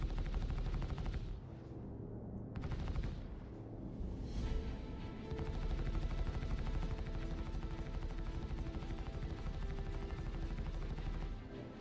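Spaceship guns fire in the video game Star Citizen in a dense, sustained burst, loud and continuous with brief dips, over a rumbling engine-like drone.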